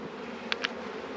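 Honey bees at a hive bringing in pollen, with two quick close buzzing passes over a steady background drone, no voices.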